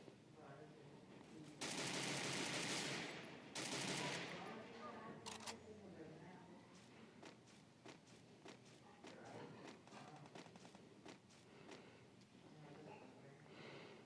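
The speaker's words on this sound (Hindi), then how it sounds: "कोई मेरे पास में ही है बहुत, तो गन शॉट्स चला रहा है।" Gunfire in Garena Free Fire on the Bermuda map in classic mode: rapid bursts of automatic shots crackle in the first half, then scattered fainter shots continue at a low overall level.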